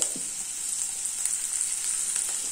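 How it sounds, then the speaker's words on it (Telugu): Onions sizzle and crackle in hot oil for bottle gourd pakodi, a steady close frying hiss with small pops and no talking. "ఇది ఇలా ఫ్రై అవుతూ ఉంటుంది."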